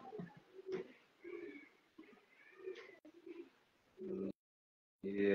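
Pigeons coo repeatedly from an open rooftop in Sialkot, soft throaty phrases recurring through the clip, with a brief silent gap before a louder nearby coo at the end.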